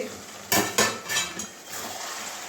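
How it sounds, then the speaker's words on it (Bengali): Metal lid lifted off a cooking pot of katla fish-head and ash gourd curry, two sharp clanks close together, then a softer clink, over a faint background hiss. "এবারে ঢাকনাটা খুলে দেখছি"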